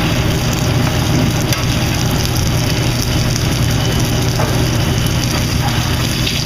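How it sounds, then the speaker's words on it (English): Fresh fish searing in a hot pan, roughly an inch thick, gives a steady, loud, even sizzle with a low rumbling hum beneath it, unbroken throughout. "you want to put a little sear, a little bit of crust on that fish"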